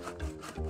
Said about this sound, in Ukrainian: У діда просто пилка тупа